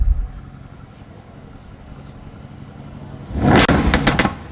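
A hand-built Mercedes AMG engine at a car show sits at a low idle, then gives one short, loud rev blip that flares up and falls back near the end.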